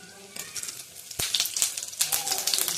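Cumin seeds hit hot mustard oil in a pan and sizzle with bright, crackling pops and spits that grow denser, close and fairly loud, with no talking.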